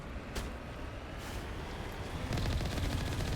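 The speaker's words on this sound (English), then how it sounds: "Oh, I can machine gun them." Bursts of machine gun fire in Mass Effect, a few scattered shots early and then a dense rapid rattle toward the end, set against rumbling background noise.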